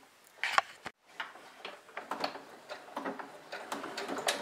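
A home sewing machine stitches a seam over the visible seam line of fabric pieces for a small pouch, heard as a short burst, a pause, then a steady run of quick mechanical ticks close by.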